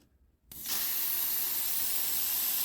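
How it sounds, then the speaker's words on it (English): Mr Muscle cleaner sprays into a plastic bag holding Tonka Mustang toy bumpers: a single sustained, close hiss that starts abruptly after a brief quiet and holds steady. "Give it a bit of a spray"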